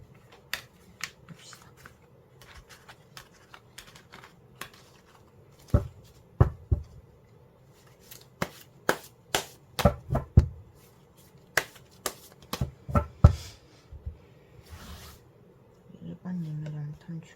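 Tarot cards being shuffled by hand, a series of crisp riffling snaps and slaps of varying loudness close up, with speech in between.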